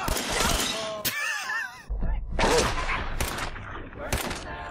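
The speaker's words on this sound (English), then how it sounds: "How did I miss all those shots?" Gunshots in Fallout 4, several sharp cracks in quick succession with glassy ringing and shattering debris between them, loud and close.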